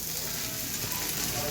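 Drumstick stalks frying with fish roe in a pan give a steady, dense sizzle that stays close and even from start to finish, with no pauses.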